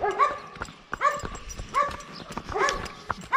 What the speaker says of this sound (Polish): Aha, jakiś piesek.